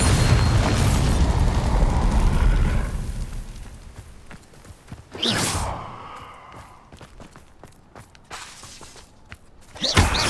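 Bombarda spell blasts in Hogwarts Legacy: a loud, heavy boom with a rumbling tail up front, a sharper burst near the middle, and another hard impact at the end, separated by quieter clatter.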